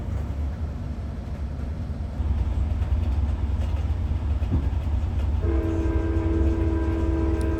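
Commuter train at a Dallas-Fort Worth transit stop with bus connections: a steady low rumble of the train, swelling louder partway through, then a sustained tonal horn or brake whine near the end, with no talking.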